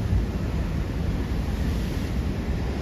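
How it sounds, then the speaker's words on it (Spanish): Sea waves wash and splash against coastal rocks at low-tide turn on a Galician shore during rock fishing, a continuous roaring surf with wind buffeting the microphone. "Y veis que ya alguna ola salpica"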